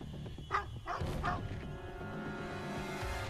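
Dogs in the video game Emergency 2012 give a few yipping barks near the start, layered over steady in-game ambience and hum.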